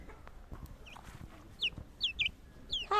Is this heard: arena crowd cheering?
no